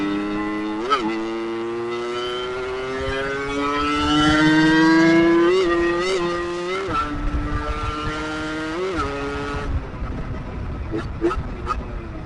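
A Yamaha RX-Z two-stroke motorcycle revs hard and climbs through the gears close up, its buzzy exhaust pitch rising, dipping at each shift, then blipping sharply at the end.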